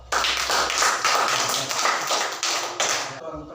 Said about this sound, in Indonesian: tepuk tangan buat teman yang menjawab